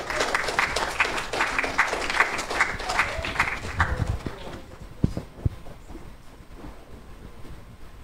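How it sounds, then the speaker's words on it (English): Applause from a church congregation at a Sunday worship communion service, a dense wash of clapping for the first four seconds that thins into scattered claps and room noise. "Give him a big round of applause."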